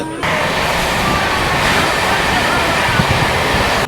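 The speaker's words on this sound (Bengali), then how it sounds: "শিয়ালদা বেনারস অমৃত ভারত এক্সপ্রেস এখন বারাণসী জাংশনে ঢুকছে" The Sealdah–Varanasi Amrit Bharat Express entering Varanasi Junction makes a steady broad rumble and rushing roar, loud and continuous throughout.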